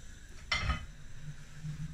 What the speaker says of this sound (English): I'm going to put the pan on.